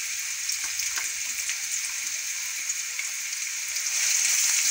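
A large onion fries in hot oil in a pan, giving a loud, close, continuous sizzling hiss that stays steady and swells slightly near the end.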